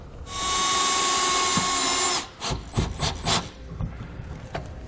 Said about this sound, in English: we can take the included self-tapping screw and go directly into the bottom of the frame here.